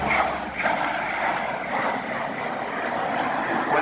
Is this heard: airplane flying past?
yes